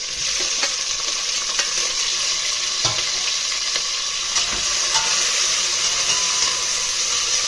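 Onions, green chillies, mint, curry leaves and tomato are stirred in a hot pan for mutton dum biryani, giving a constant loud sizzle broken by occasional scraping stirs.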